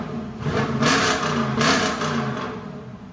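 2019 Jeep Grand Cherokee Limited X, 5.7L HEMI V8 with mid muffler delete, giving two quick loud revs over a deep, throaty idle, close by with no voices.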